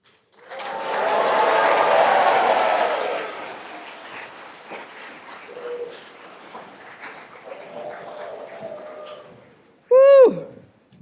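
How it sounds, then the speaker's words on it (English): An audience at a community day keynote cheers and claps in a loud burst for a couple of seconds, then fades to scattered murmurs, with a brief sharp whoop near the end. "let's just give a big cheer for being here"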